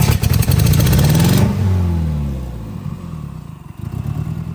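A Nissan D21 engine with a dead number 3 cylinder runs rough, revving with a clattering stutter before dropping off and sagging unevenly, then picking up again briefly, close and loud with no talk.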